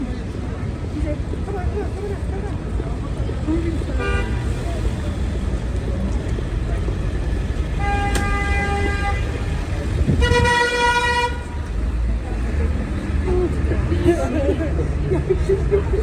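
Car horns honk over a dense crowd babble and road traffic near Times Square on New Year's Eve. Several separate toots come and go, including one longer blast in the middle, against steady street noise and a murmur of voices.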